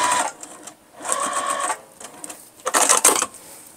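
A sewing machine stitches across pressed quilt block seams for a pumpkin block, running in short bursts with brief pauses between them, close and fairly loud.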